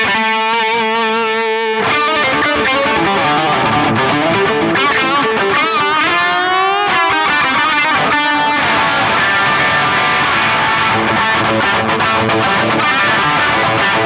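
Distorted electric guitar played through a NuX MG-30 multi-effects unit with a custom EQ boost preset, loud and continuous: a sustained chord opens, then busy riffs and bends run throughout with no talking.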